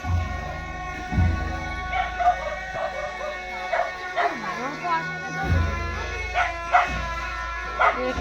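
A dog barks and yips in short bursts outdoors during a sightseeing outing, mixed with people talking and ambient noise.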